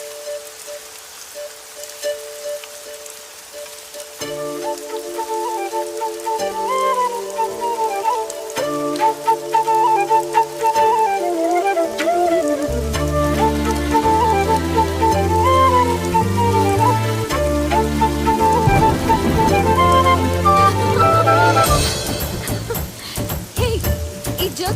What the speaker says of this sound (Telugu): నాకు ఈ వర్షం అంటే చాలా ఇష్టం.